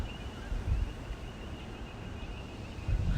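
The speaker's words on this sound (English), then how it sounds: "It's windy, very windy, Emily, and it's going to get windier as the" Steady wind rumbles and buffets the microphone, with low gusty surges near the start and end and no voices.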